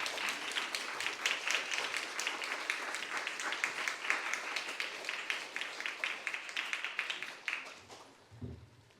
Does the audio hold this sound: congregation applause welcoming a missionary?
yes